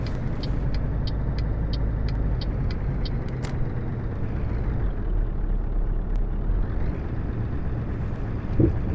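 A Scania truck drives in Euro Truck Simulator 2, its engine a steady low drone with a string of faint regular ticks early on, likely an indicator, and a brief hiss near the end.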